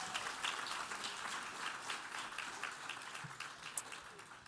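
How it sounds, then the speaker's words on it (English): Conference audience applauding a team at the close of an event, steady dense clapping throughout with a few sharper claps standing out near the end. "Y'all give a huge round of applause to this GBPI team."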